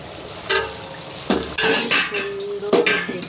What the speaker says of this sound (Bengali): একটু ঢাকা দিয়ে দিতে হবে। একটু ঢাকা দিয়ে দেবো।